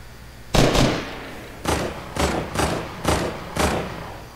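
Gunfire in the Fortnite video game: about six sharp, loud shots in an irregular burst, each with a short decaying tail, with no talk over them.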